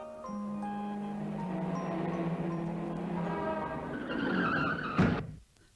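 A car's engine drones and its tyres skid along a roadside, building to a sharp thump of impact near the end before cutting to quiet.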